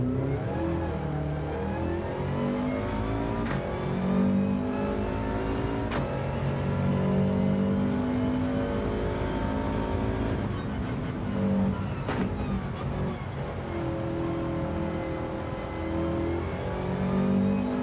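A race car engine in Gran Turismo 7 revs repeatedly through the gears, its whining pitch climbing and dropping in steady cycles, loud and continuous throughout.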